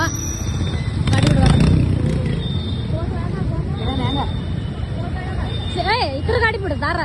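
Motorbikes pass at an entrance during Karnataka Rajyotsava celebrations, their engines rising and falling close by amid crowd babble, whistles and someone talking.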